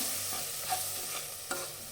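Quiet, steady sizzling of masala powder frying in hot oil, with a few soft pops and stirring clicks.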